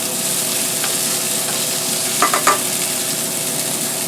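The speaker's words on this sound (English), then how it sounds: "Get this glaze to a boil. Stir it pretty constantly." Black pepper glaze stirred in a pan on the stove, with a steady loud sizzle throughout and a few brief utensil scrapes standing out near the middle, no voices.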